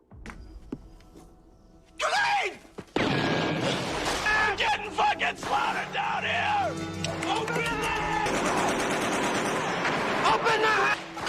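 Bursts of gunfire ring out in a war film battle scene, with Mujahideen firing on a Soviet tank crew, volleys cracking and rattling continuously under shouting voices and dramatic sound.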